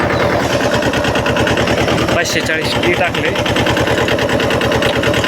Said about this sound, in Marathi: तर तुम्हाला मी ट्रॅक्टर चालवून RPM वगैरे दाखवतो.